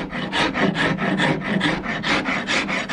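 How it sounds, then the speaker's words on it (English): Hand file rasping along the wooden belly of a flintlock stock, a close, loud rhythmic series of about a dozen scraping strokes in steady back-and-forth succession. "take a file and start shaping the belly of the stock."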